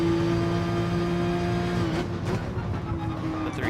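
A race car engine drones loudly and steadily, then briefly drops and rises as the driver downshifts and gets back on the throttle during a race with a Corvette nearby.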